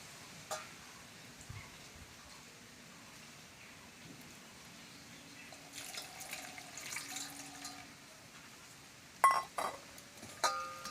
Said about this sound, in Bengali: প্রথমে আমি পেঁপেকে ভালো করে পরিষ্কার করে ধুয়ে নেব